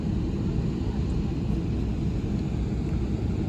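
Jet engine noise from an Embraer 195-E2 after de-icing, as it prepares for departure, heard from inside the cabin as a steady, loud low rumble that continues without a break.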